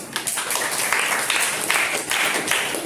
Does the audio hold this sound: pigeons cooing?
no